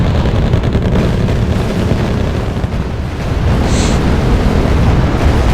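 Enemy tanks exploding in a town during a war video game, a loud, dense continuous rumble of blasts and gunfire.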